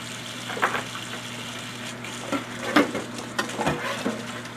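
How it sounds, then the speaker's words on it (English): Sliced cucumbers and onions being rinsed in a colander for bread and butter pickles: a steady wash of running water with light clatters and knocks of the colander scattered throughout. "Get all your onions and cucumbers rinsed."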